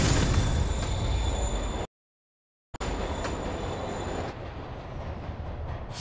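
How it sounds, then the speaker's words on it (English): A moving train in Marvel's Spider-Man Remastered rumbles and clatters loudly, breaks off into a brief silence, then resumes and fades as it pulls away. "Train's moving."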